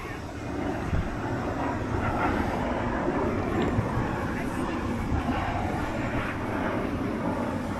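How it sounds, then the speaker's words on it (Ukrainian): A small airplane flies toward a local airfield, its engine a steady, broad drone that stays constant for several seconds at moderate distance. "літачок десь летить на місцевий аеродром"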